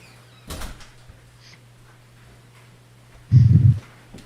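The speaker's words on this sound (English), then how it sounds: "I gotta close some doors." A door shuts with a solid thump during heavy rain, preceded by a softer knock and rattle; the rain itself is only a low steady hiss between them.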